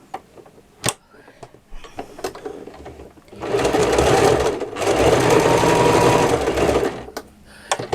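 A sewing machine runs in two loud sustained bursts while stitching machined patchwork, with short clicks and handling knocks before and after the runs.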